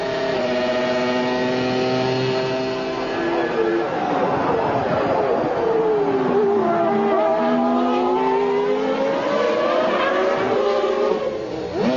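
1995 Formula 1 cars, Benetton and Williams, racing, with high engine whines rising and falling in pitch as they pass and shift, heard beneath continuous commentary throughout.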